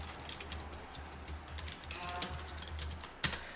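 Quiet, rapid clicking of a computer keyboard as a category name is typed, in a light irregular patter that ends with one sharper key press.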